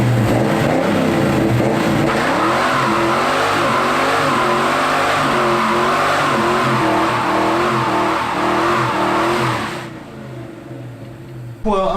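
A V8 Mustang drift car engine running loud and close, with a rough rumbling idle swelling into repeated revs for about ten seconds before it cuts back abruptly.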